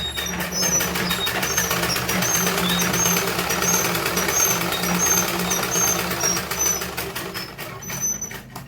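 A sewing machine stitches a salwar in a continuous, rapid mechanical chatter with a low motor drone, running loud and steady for several seconds before slowing and trailing off near the end.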